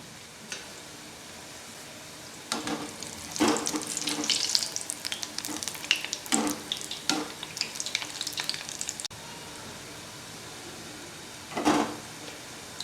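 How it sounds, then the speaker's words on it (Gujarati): Pea-filled kachori patties fry in hot oil as they are turned until browned, giving quiet, intermittent bursts of crackling sizzle separated by calmer stretches. "પલટાવતા પલટાવતા બ્રાઉનિશ થાય ત્યાં સુધી તળીશું"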